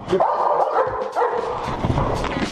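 A dog barks and yips in short bursts, close and fairly loud, with a whimpering edge between the barks.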